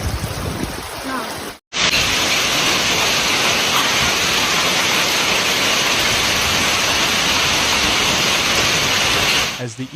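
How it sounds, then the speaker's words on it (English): Heavy April hail with powerful wind pounds down in Changsha, Hunan, a dense, loud, steady roar that starts abruptly after a brief gap and runs unbroken to the end. "这个冰雹打在身上都很痛的"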